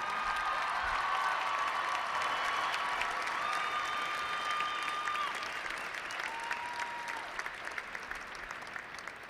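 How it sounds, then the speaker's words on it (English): Crowd at a high school boys basketball championship ceremony gives steady applause, dense clapping that slowly fades, with a few whistles and high tones ringing over it. "Round of applause on their championship efforts."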